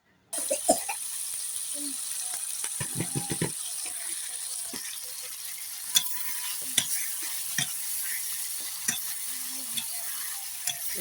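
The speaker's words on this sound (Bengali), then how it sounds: "আমি মাছ দিয়ে দিচ্ছি" Pangas fish pieces going into a pan of cooked-down spices, with a steady sizzle of frying and intermittent scraping and stirring clatter, close and fairly loud throughout.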